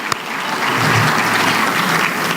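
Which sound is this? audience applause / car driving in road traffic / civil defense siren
audience applause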